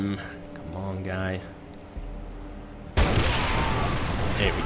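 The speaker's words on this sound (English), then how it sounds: "There's just an explosion" A sudden loud explosion in the video game Far Cry 3, bursting in midway after quieter game sounds and soft voices, then a sustained noisy rumble and crackle that fills the rest of the moment.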